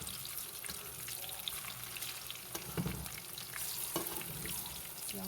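Banana peppers frying in a pan give a soft, continuous sizzle and crackle, faint and steady, with occasional scrapes and clicks of a fork turning them.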